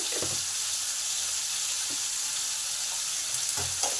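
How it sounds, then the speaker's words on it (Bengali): Cut, washed potatoes sizzle in a hot pan with salt and turmeric, a constant bright hiss broken by a few soft clunks of stirring. "আলুটাকে কেটে ধুয়ে রেখেছি সেটা দিয়ে দিলাম।"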